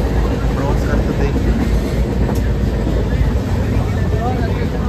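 An Indian Railway train bound for Prayagraj for the Maha Kumbh gives a constant loud rumble and rattle from inside a carriage, with voices in the background.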